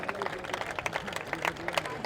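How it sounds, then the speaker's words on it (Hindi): An audience at a political rally applauds a party leader, quiet, brief rapid clapping from a gathered crowd with a murmur underneath. "उनके लिए भी जोरदार तालियां"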